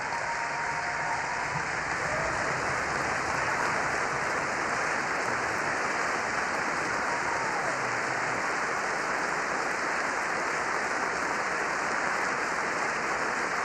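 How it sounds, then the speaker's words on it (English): Sustained applause from a large audience in the chamber of Congress, a dense, steady roar of clapping that fills the whole stretch without letting up. "We're at 21 claps, chat."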